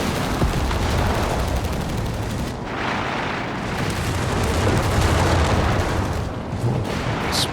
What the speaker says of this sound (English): Oh, explosions have fallen.